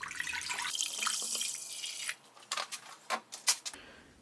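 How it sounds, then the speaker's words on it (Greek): Water pours noisily into a saucepan in a woodworking workshop for about two seconds, followed by a few light clinks of the pot. "Σε μία κατσαρόλα θα ρίξω νεράκι."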